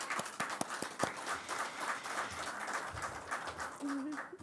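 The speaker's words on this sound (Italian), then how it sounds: "un applauso lo dedico a Cristina" An audience claps for Cristina at the presentation of an autumn agri-food products show in Noventa Vicentina. The applause is sparse and fairly soft, with a brief voice sounding near the end.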